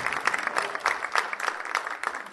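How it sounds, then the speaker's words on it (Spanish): An audience at a talk applauds in a brief, fairly quiet burst of scattered claps, with no voices over it. "Un aplauso para él, porque es un auténtico profesional del micrófono."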